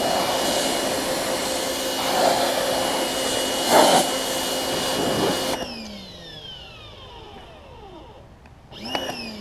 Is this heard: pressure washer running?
yes